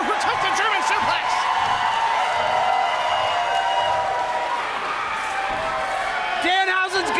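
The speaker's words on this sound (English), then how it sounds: "Hear the crowd." A wrestling arena crowd roars loud and continuous during a match, with sustained cheering and chanting while a commentator talks over it.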